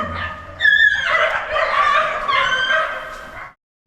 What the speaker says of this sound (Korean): 현관 근처에서 시끄러운 개 짖는 소리와 악취가 진동합니다